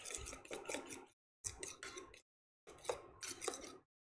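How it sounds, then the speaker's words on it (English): Black pepper is freshly ground over pasta carbonara in a home kitchen, three short bursts of gritty, rasping mill-turning, each about a second long, separated by brief silences, quiet and close. "Fresh ground pepper."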